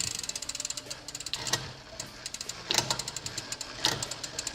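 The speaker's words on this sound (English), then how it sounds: "You can see when it makes that noise a little bit, that grinding, it means it's sticking a little bit." A Rambo bicycle derailleur shifts through the gears with rapid clicking ratchet ticks and occasional louder grinding bursts, close up and with no talk over it.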